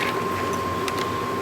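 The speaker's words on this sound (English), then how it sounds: "as you can see, I'm using a heat gun and just get it close enough, and not too hot" A heat gun blows a steady, close rush of hot air over heat-shrink wire wrap while a solenoid is replaced on a BC roaster, with an even hiss that continues without a break.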